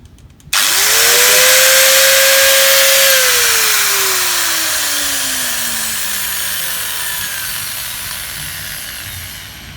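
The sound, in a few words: repaired angle grinder being test-run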